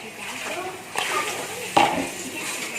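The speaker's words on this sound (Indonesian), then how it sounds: "Kita aduk begini." A spoon stirs apem batter of flour and yeast in a bowl, with soft scraping and a couple of sharper knocks against the side, close and moderately quiet.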